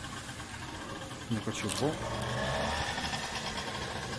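A Renault Clio 2 engine runs at idle with a steady, even mechanical hum, close and continuous, while someone talks over it.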